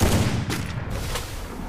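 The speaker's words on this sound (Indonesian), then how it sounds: "Shotgun." Shotgun blasts from the video game Free Fire, rapid heavy reports packed into a dense, loud stretch of game noise, with a couple of brighter bursts standing out.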